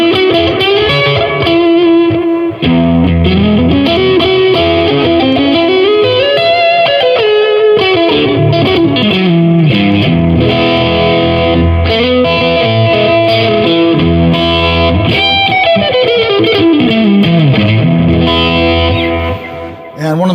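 Electric guitar through a neck-position mini humbucker pickup, played with a warm, thick overdriven tone, sustained notes and sliding bends, continuous and loud with no talking.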